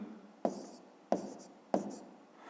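Pen strokes of handwritten numbers on paper for a fifth-grade maths exercise, three short scratchy bursts spaced evenly, close and quiet with no talking.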